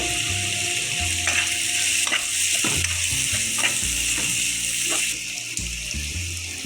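Cut potatoes and a pinch of cumin sizzling in hot oil for chira pulao, a loud continuous crackling hiss close by, with occasional scrapes and clinks of a spatula stirring in the pan.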